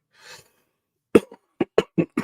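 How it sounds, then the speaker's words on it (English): A soft breath, then a sharp cough followed by several quick, harsh coughs in a short burst, close to the microphone. "I don't like being sick, so I apologize for the cough"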